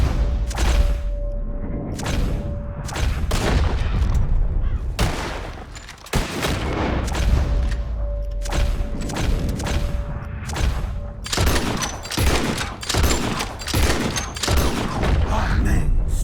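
Rapid volleys of gunfire as birds are shot out of the sky in Red Dead Redemption II, dense bursts of shots repeating throughout over a steady game ambience, with a quieter gap midway.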